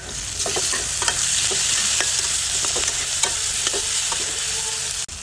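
Ground spice paste for a chicken curry fries loudly in hot oil. A dense, steady sizzle fills the whole stretch, broken by repeated stirring scrapes and a sudden brief drop near the end.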